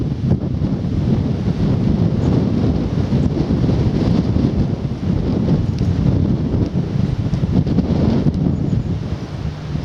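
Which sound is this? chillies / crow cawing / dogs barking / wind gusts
wind gusts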